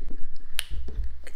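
Finger snapping, a few sharp close snaps in quick succession with one especially crisp snap standing out, no talking.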